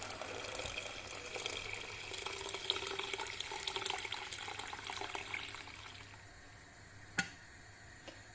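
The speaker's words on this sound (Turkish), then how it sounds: "Çorbamızın suyunu ekleyelim." Water is poured steadily into a pot of green lentil soup with yogurt, a continuous close splashing rush for about six seconds, then it stops, leaving a couple of faint clinks.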